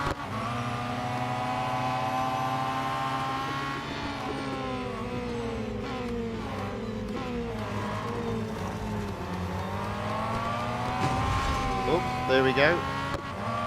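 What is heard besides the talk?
race cars in video game Real Racing 3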